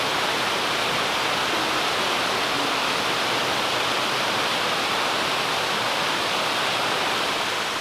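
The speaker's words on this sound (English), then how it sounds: "You can see the water from over there, waterfall from over there." Victor Falls near Bonney Lake, Washington, pours with a loud, steady broadband roar of falling water, continuous and unbroken, heard from close range without voices.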